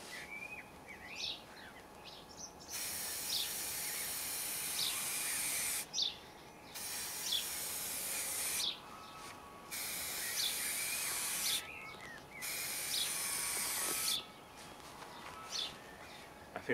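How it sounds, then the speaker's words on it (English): Clear lacquer hisses from a spray can onto a Bentley-style model car grille in five or six steady bursts of a few seconds each, with short pauses between them and faint birdsong in the background. "So right now, clear lacquer, off we go."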